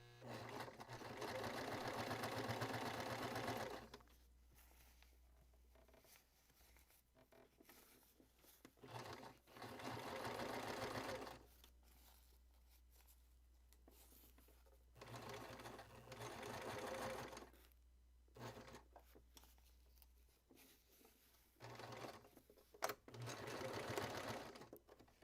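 A sewing machine stitches a fabric casing in several runs of varying length, the motor whirring up close and stopping between bursts, with short quiet gaps and brief handling noises.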